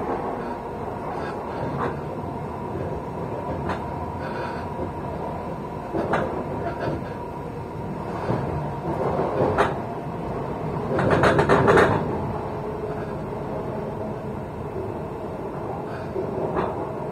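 Interior of a train arriving at Edinburgh Waverley station: a continuous low rumble with periodic clunks and rattles from the carriage, and a brief louder metallic squeal near the end.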